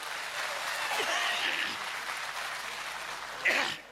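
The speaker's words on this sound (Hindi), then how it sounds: "तो एक बार जोरदार तालियां बजाइए।" An audience at a Hindi poetry event claps steadily in a hall, a broad even wash of applause. A brief louder burst comes near the end.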